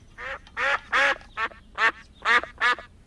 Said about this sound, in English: who puts this duck in my kitchen?